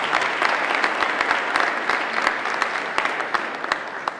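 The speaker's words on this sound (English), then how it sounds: "So let's give him a big round of applause." A crowd at a swearing-in ceremony for the Office of Minority Affairs in Alabama applauds loudly, a dense, continuous clatter of hands with distinct sharp claps throughout and no speech over it.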